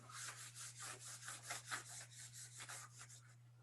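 Chalk or a board eraser rubbing writing off a classroom board during a maths lesson, a steady run of brisk back-and-forth scrubbing strokes, close and fairly loud, with a constant low electrical hum underneath and no talking.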